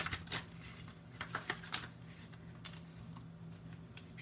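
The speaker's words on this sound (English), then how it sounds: "Trying to keep my shuffling in camera." Tarot cards shuffled by hand during a reading, giving soft, quick papery clicks and riffles in short bursts over the first two seconds, then fainter, sparser rustling, all quiet and close.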